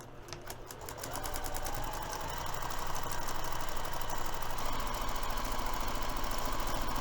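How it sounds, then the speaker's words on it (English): A sewing machine top stitches a fabric edge for a messenger bag, starting with quick rapid pulses and settling into a continuous fast whirring hum that holds steady and close. "we're going to top stitch the top finished edge using 1/4 inch seam allowance"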